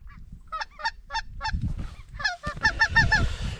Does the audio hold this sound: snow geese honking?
yes